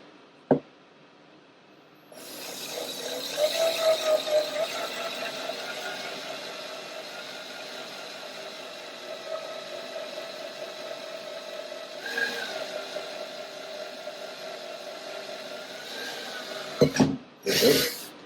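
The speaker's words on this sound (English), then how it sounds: "Put your drill on there." An electric drill bores a hole in a wheel, starting with a sharp tap and then a steady mid-pitched whir that runs about fifteen seconds, ending in a few clunks.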